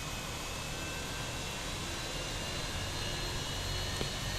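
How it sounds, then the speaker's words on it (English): Airbus A320 jet engine spooling up during start in a flight simulator, a steady, dense broadband roar with a faint high whine, constant and fairly loud throughout with no talk. "By the way, the engine start sounds on this airplane are amazing."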